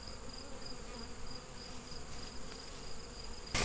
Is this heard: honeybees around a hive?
yes